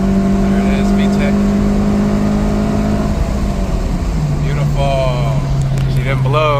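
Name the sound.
8th gen Honda Civic engine hitting VTEC uphill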